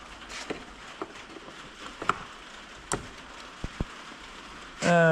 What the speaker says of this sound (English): It's decided to start raining now.